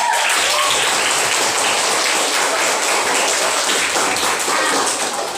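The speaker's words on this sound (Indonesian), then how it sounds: "sekarang kita beri tepuk tangan kepada kelompok berapa" A classroom of students applauds a presenting group, loud rapid clapping that fills the whole stretch without talk.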